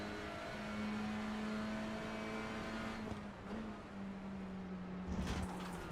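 Onboard a touring car racing at Snetterton, the engine drones steadily at a held pitch, then briefly dips and shifts as the car lurches, with a loud rattle and jolt near the end.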